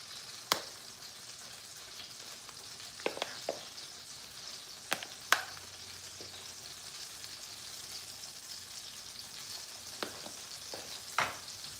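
A burger fries in a pan with a quiet, steady sizzle, broken by a few sharp pops and clicks.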